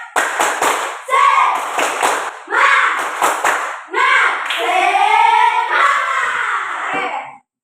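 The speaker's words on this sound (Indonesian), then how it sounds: "Tepuk semangat." A group claps a quick rhythmic pattern while chanting together in loud unison, with bursts of clapping between the shouted phrases.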